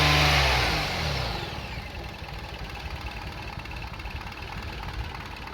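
A Toyota Sienna engine, freshly fitted with a new timing belt and water pump, running steadily, a loud surge at the start that settles into a continuous close idle with no voices.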